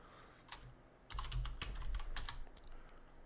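Quiet computer keyboard typing, a short burst of close clicking keystrokes at a desk, with a few scattered taps before and after.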